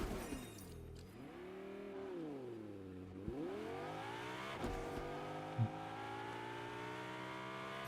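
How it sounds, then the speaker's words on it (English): Engine of a car driving slowly in Fortnite, a steady tonal hum that rises and dips in pitch as the car speeds up and slows, with a few sharp clicks and knocks, moderately loud and alone. "But why the car is driving at such a low speed?"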